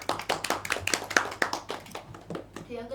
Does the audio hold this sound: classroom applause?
yes